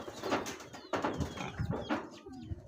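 Pigeons outdoors, with a few bursts of flapping wings and soft bird calls rising and falling across a couple of seconds, fairly close, with no talking.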